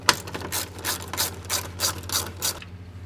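A ratchet wrench turns 10 mm bolts on the AC condenser of a Buick Encore or Chevy Trax, giving about seven quick bursts of rapid clicking in a steady rhythm, close up and fairly loud, with no talk.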